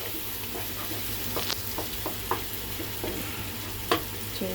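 Masala egg curry fries in a pan with a soft, steady sizzle, punctuated by light spatula scrapes and taps as it is stirred, close and fairly quiet, with a low hum underneath.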